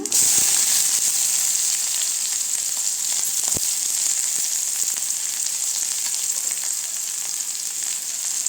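Onion and dried red chilli sizzle in hot oil for wheat rava upma, a loud, steady, close frying hiss with a few faint stirring clicks and no voices.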